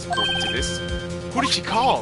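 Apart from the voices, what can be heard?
phone ringtone in the video game Phoenix Wright Trilogy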